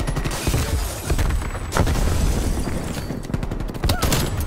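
Rapid gunfire in a Call of Duty Cold War multiplayer match, punctuated by heavy booms like a grenade going off, loud and continuous with occasional voices.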